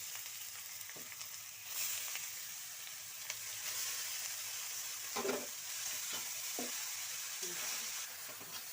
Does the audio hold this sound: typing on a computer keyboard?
no